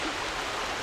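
River water flowing beneath overhanging tree branches in autumn, a steady broadband rushing wash with no breaks, fairly soft and continuous, and no voices.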